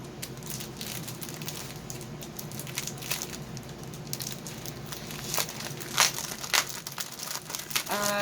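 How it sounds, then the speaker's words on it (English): Plastic packaging crinkles and crackles as cross stitch kits are unbagged, close irregular rustles and sharp crinkly bursts that grow busier toward the end, with no talking over them. "Crinkling again, guys."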